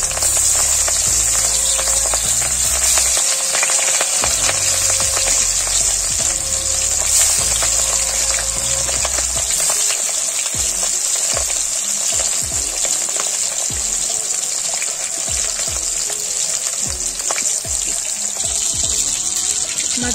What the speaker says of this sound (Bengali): এবার মাছগুলোকে দিয়ে ভেজে নেব।